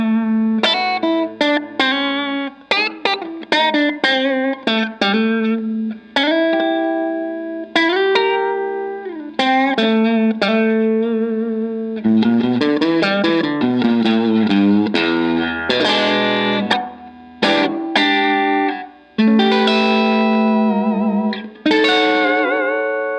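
A black 1970 Fender Stratocaster electric guitar on its middle pickup position plays a lively run of picked single notes and short chords, mostly clean with light effects, some notes ringing and others cut short, with no voices.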